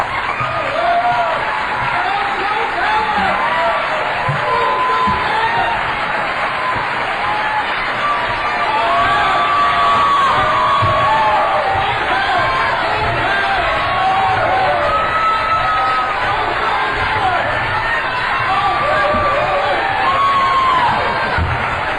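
Large audience at a 2012 Republican U.S. Senate primary debate in Falls Church cheers and whoops loudly and steadily, with sustained applause and shouts that go on without a break.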